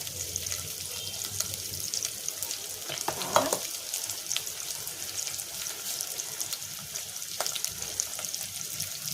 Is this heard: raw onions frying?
yes